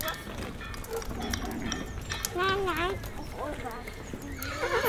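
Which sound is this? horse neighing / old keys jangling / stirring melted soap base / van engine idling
horse neighing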